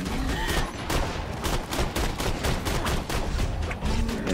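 Rapid gunfire from a weapon in Borderlands 2 fills the scene with dense, loud, continuous bursts of shots, close and overlapping, with no pauses and no talk.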